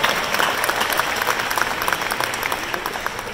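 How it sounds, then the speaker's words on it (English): A large conference audience applauds on opening night in a hall, giving sustained, dense clapping at an even loudness from start to finish. "A huge round of applause to all of you."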